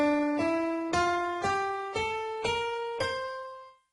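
A C Mixolydian scale played as seven separate sustained tones, each note struck cleanly and left to decay before the next one sounds, climbing step by step, alone with no talk.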